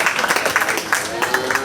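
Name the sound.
audience applause at county fair cattle show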